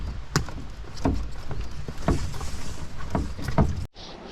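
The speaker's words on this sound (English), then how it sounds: "Let's go and put down the canoe." Aluminum-style canoe set down after a long portage in Algonquin backcountry, with several hollow knocks and thumps against ground and rocks at irregular intervals, fairly close, ending in a short quiet pause.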